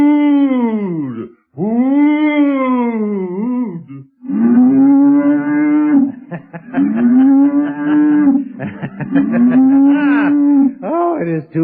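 An ox lows loudly and long in a radio drama, a string of deep, drawn-out moos with short breaks, close up and alone.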